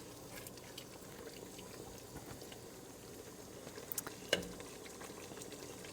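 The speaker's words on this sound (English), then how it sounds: "I'm just kind of mixing that into my meat, beer, and vegetable mixture here" A spatula stirs tomato paste through a simmering chili of meat, beer and vegetables, making a soft, low bubbling and scraping in a pot with a brief clatter near the end.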